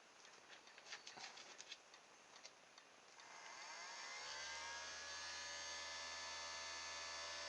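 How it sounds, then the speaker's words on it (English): Small cheap electric motor spinning a plastic hairdryer fan propeller, starting after a few clicks and quickly rising to a steady, close, whining hum that holds to the end. "Okay, this is a hairdryer fan."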